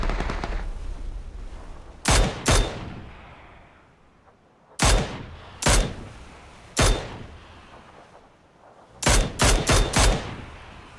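Gunfire in the PUBG video game comes in sharp, loud bursts of one to four shots separated by quieter stretches, with a soft rumble of background noise between volleys.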